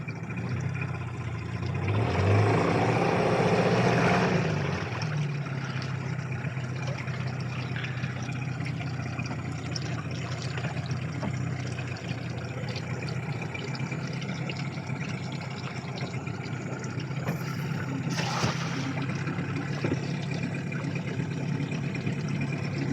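A boat engine runs steadily on a river, a continuous mid-pitched drone that is loudest near the start and holds at a constant level for the rest of the stretch.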